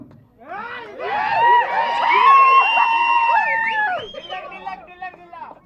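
A crowd at a Telugu song launch event cheers loudly: many overlapping voices whoop and shout in rising and falling calls, building to a sustained roar before easing off.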